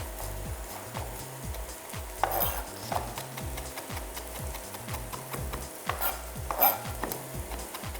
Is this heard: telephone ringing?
no